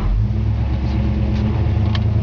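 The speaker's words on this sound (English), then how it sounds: "I hope you can hear that transmission shifts out perfect." A 1963 Galaxie 500's engine drones steadily while driving, loud and close, with a slight change in pitch as the transmission shifts gears; no talking.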